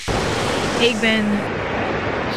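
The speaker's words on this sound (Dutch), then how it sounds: "Die golven!" Ocean waves roll in on a Bali beach as a continuous broadband wash of surf, with a person's brief excited vocal sounds heard over it partway through.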